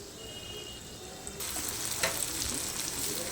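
Spices sizzle and fry in hot ghee with green chillies added, a steady close crackle that turns louder and brighter partway through as the chillies and ingredients hit the pan; no voices.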